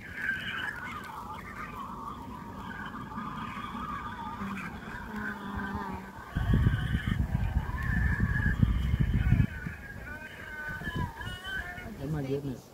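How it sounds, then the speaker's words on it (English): Tasmanian devils feeding out in the wild at a wildlife sanctuary in Tasmania, giving harsh, rasping screeches and growls that swell into a loud, sustained burst in the middle before easing off again. "So this is what a Tassie devil sounds like when they're out in the wild,"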